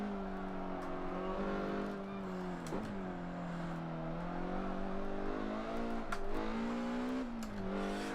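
Mazda MX-5 Super20 time attack build engine in Forza 7, a constant close drone rising and falling with throttle, brief dips at shifts, with occasional faint tire noise.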